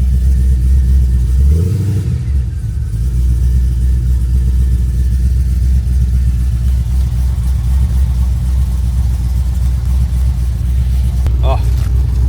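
A Pontiac G8 that has sat unused for a while, with dash warning lights on and running a little rich, idles loud and close. A deep steady engine drone swells in one brief revving burst near the start, and no voices are heard.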